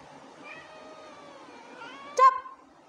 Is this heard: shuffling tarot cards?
no